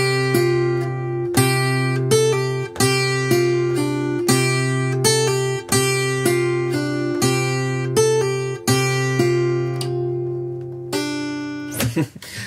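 Acoustic guitar plays a folk song, with the bass line and melody picked together. Steady, evenly spaced plucked notes ring clearly for about eleven seconds before a brief scrape at the end.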